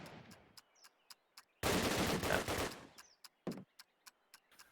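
Rapid sharp gunfire bursts in Call of Duty: United Offensive during a competitive match, including a dense rifle volley mid-clip amid crisp ticking shots, loud and close.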